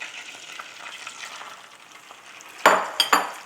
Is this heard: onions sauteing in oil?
yes